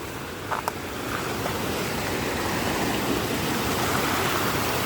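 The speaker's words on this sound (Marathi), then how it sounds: "पाणी बघू शकता कुठपर्यंत आलंय" A swollen, flooded village river in monsoon spate rushes past in a dense, continuous roar, loud and unbroken throughout, with no voices over it.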